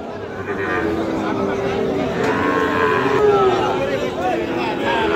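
At a busy rural cattle market in Dinajpur, Sahiwal bull calves and cattle moo in long, drawn-out calls. The mooing sits under crowd chatter and people talking nearby.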